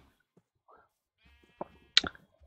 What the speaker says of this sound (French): Bon là on a un mouton qu'on pourrait attirer, mais pas vraiment besoin.